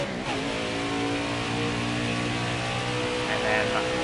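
A race car in a racing game on the Charlotte Roval accelerates back on the throttle, a loud, steady high-revving engine drone with rising harmonic tones, joined by faint talk.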